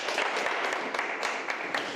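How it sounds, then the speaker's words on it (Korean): Audience applause welcoming the featured actress Lee Sara to a special lecture, a dense steady clapping that fills the whole stretch at a moderate, even level with no talk over it. "오늘 뜨거운 박수로 맞이하겠습니다"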